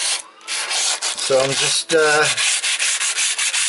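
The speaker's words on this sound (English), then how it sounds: "sanding these down." Repeated scratchy strokes of hand sanding polyfiller smooth inside a narrowboat, rhythmic and close, with someone speaking briefly over it.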